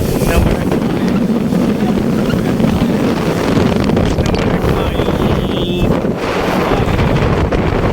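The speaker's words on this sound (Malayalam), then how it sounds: "ഉന്നമട കായലിൽ ഒരു ബോട്ട് യാത്ര" A speedboat runs across Punnamada backwater lake in Alappuzha, its engine rumble buried under loud, constant wind buffeting the microphone.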